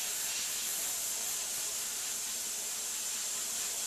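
Sandblasting on glass with abrasive spray, a loud continuous hiss of blasting air and grit close up, steady from start to finish with no talking.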